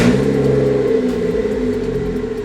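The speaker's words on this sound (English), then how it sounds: "let's go ahead and turn the car on" A BMW F30's engine runs at a steady idle with a low, even hum that stays close and constant, with no one talking.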